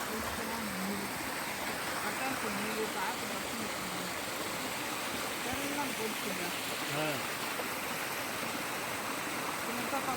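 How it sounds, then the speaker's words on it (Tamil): A stream flows steadily near a forest temple during a jeep safari in Thekkady, giving a constant broad rushing wash that stays even throughout, with faint voices in the background. "சூப்பர் தண்ணி போகுது"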